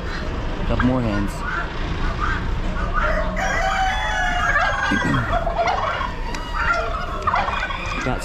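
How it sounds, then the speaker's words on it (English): A crowded poultry area at an Amish auction with chickens clucking, roosters crowing and turkeys gobbling, overlapping calls close by, with faint voices underneath. "Got more hens."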